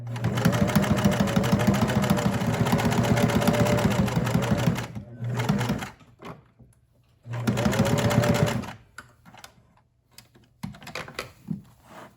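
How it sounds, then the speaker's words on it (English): A sewing machine stitches a cinch bag in two loud, rapid bursts of whirring, rhythmic needle clatter, with brief pauses and softer handling noises between runs. "And sew this bad boy up."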